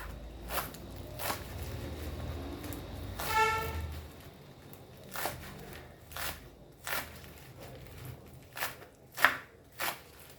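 A knife chops Goan doie bhaji greens on a board in sharp, separate strikes spaced a second or so apart. One brief rustling scrape sounds among the chops, and the cutting stays quiet and close.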